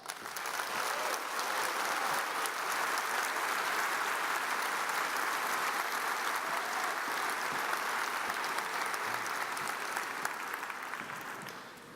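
A large audience at a Buffalo startup competition finals event gives a sustained round of applause for the qualifying judges, steady dense clapping that holds for the whole stretch and tapers only slightly near the end.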